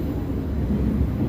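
Steady low rumble of a train running through Paris, heard from inside the carriage as a continuous, close mechanical drone without talk.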